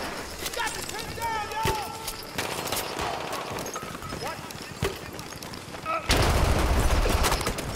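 Gunfire from a Burton LMR and Parabellum in an online multiplayer shooter game, with bursts and single shots scattered irregularly throughout and a louder rush near the end, all under ongoing player talk.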